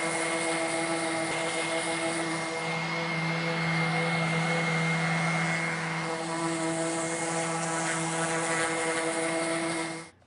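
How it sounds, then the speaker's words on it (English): A random orbit sander fitted with coarse 120 grit sandpaper works a small cabinet, giving a steady whirring drone with a rough sanding hiss, close and constant before cutting off at the end. "I start with a random orbit sander and a coarse grit, and this is about 120."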